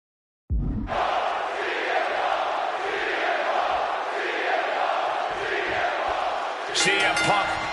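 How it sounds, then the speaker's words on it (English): Roaring wrestling arena crowd in Chicago from the video game WWE 2K26, a loud, sustained wall of cheering and chanting that swells in waves, with a brief burst of brighter noise near the end. "And just listen to this crowd here in Chicago."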